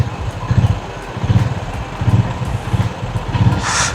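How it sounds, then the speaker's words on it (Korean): A Honda GB350 single-cylinder motorcycle's exhaust thumps in a steady low pulsing rhythm, rising and falling with the throttle, close to the microphone, with wind noise and no talking. "스로틀 감고 나서 배기음이 들릴 때까지 약간의 시간차가 존재해요."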